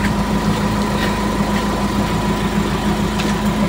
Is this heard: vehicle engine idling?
yes